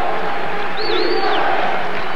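A packed basketball arena crowd at a UNM Lobos versus New Mexico State Aggies game roars and cheers in a dense, steady wash of noise that holds for a couple of seconds.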